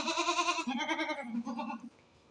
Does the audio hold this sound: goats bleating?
yes